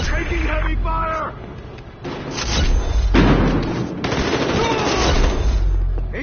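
Gunfire in the video game Battlefield Hardline, bursts of automatic fire and heavy thuds mixed with shouted voices, dense and loud throughout.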